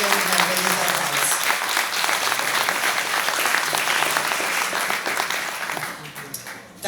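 An audience at a veterans' folklore festival event applauds, a full, dense round of clapping that holds steady and then tapers off at the end.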